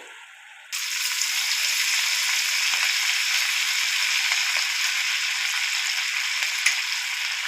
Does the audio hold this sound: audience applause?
no